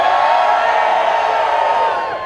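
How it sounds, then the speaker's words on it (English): A crowd at a supercar weekend event cheers and whoops loudly on cue, a dense sustained roar of many voices that holds strong and then tapers slightly at the end. "What I want to do is I want you all to cheer as loud as you can after 3."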